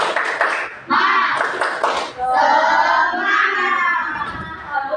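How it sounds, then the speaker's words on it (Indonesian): A class does a spirit clap, a quick burst of group clapping at the start followed by many young voices chanting together loudly in a rhythmic, sing-song cadence with claps mixed in. "Tepuk semangat."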